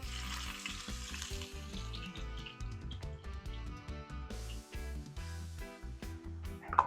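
Onion added to hot oil with garlic in a pan for a Jamaican-style vegan marinara sauce, giving a steady close sizzle with stirring clatter and scraping throughout, no talk.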